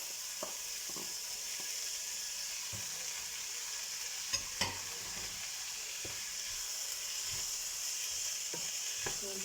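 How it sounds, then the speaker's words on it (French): Bulgur with coriander and tomatoes is stirred in a pan: a soft, steady hiss of cooking with scattered light scrapes and a couple of sharper utensil knocks, fairly quiet and without speech. "Donc je mélange."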